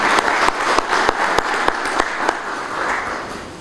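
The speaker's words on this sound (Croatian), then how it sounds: "da im uzvratimo jednim aplauzom" Loud audience clapping at a book launch in Zenica, a dense steady patter with a few sharper individual claps standing out, continuing without pause.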